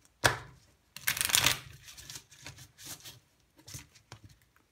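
A deck of tarot cards is shuffled by hand nearby, with a sharp riffle, a longer rustling burst, then a few softer flicks and taps, no talking.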